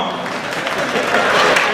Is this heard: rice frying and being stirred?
no